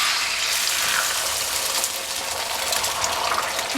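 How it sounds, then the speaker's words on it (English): Beaten eggs poured into a smoking-hot pan for a goat's cheese omelette, giving a steady, loud broadband sizzle and hiss that holds evenly throughout with no talking. "I'm pouring the eggs into the hot pan"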